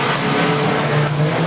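A race car engine drones steadily during a feature race, a sustained loud mechanical roar with no break.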